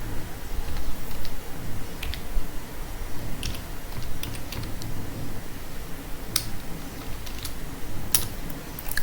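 Code being typed on a computer keyboard while implementing a stack in Python, with a steady patter of soft, close key taps and a few sharper clicks over a noisy background, without talk.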